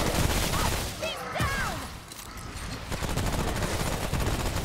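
Continuous rapid gunfire from a weapon in the shooter Remnant From the Ashes, loud and steady throughout, with creature cries and a brief dip in the middle of the burst.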